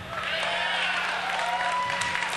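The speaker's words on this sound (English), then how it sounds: "The crowd here is ridiculous." A live crowd cheers and applauds at a BlizzCon StarCraft finals event, a continuous roar of clapping and shouting that fills a large hall and holds steady and loud the whole way through.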